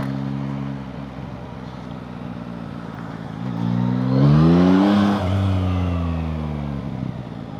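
Yamaha MT-09 Y-AMT motorcycle engine revs up from a steady idle, climbing to a loud peak around the middle before settling back to a rumbling idle, close by with no talking.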